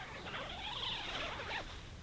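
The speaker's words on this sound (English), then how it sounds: "On the mesh we have a one-way zipper starting at the top." A one-way zipper pulled along the mesh inner door of a Naturehike Vik 1 lightweight backpacking tent, a single continuous rasping zip lasting about two seconds, close and clear.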